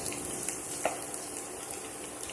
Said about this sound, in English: Our onions, so we're going to try to get them brown.